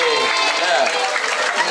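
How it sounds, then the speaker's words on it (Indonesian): At an English and character camp held in a villa, a group claps in a short, dense burst of applause while voices talk over it. "Keren, tepuk tangan dari Jos."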